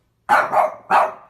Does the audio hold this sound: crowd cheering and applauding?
no